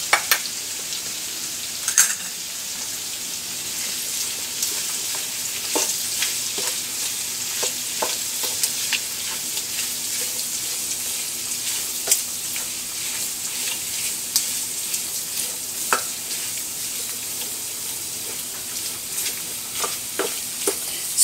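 Sisig is stirred in a frying pan with liver spread, a continuous loud sizzle broken by frequent spatula scrapes and clicks against the pan, without talk.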